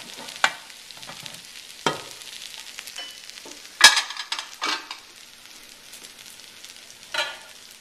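Cooked rice being stirred into a tomato mixture in a pan, with soft scraping and a gentle sizzle broken by sharp spoon-on-pan clinks and knocks at irregular intervals.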